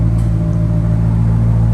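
A Maserati 5.0 engine idles with the Nova Racing exhaust valve closed, a loud, steady, deep rumble heard up close without pause.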